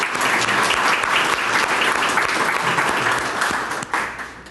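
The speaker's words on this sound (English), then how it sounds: "So let's give a round of applause for the Parks and Recreation Department." An audience at an outdoor sculpture event in the gardens claps for the Parks and Recreation Department, a dense, loud burst of applause that holds steady and then tapers off near the end.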